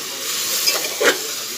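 Biryani ingredients with turmeric and salt fry in a pressure cooker, giving a soft steady sizzle and hiss with a couple of brief stirring scrapes close by.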